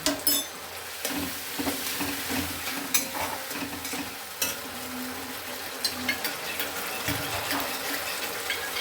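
Sauce water and cornflour water are poured into a pan while veg manchurian cooks, making a steady close sizzling and frying hiss with liquid splashing and the scrape of stirring.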